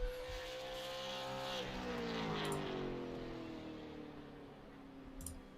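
A Super Late Model race car runs a qualifying lap at Nashville, its engine note climbing and falling as it rises through the gears and sweeps past, loud and continuous with a steady whining drone.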